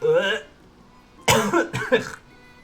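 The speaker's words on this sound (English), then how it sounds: "I'm coughing because of it." A person coughs a few times in quick bursts after a short vocal sound, close and fairly loud.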